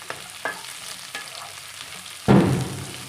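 Chopped capsicum drops into hot oil for chitranna and sets off a sudden loud sizzle after a few light clicks of stirring, close and with no voices.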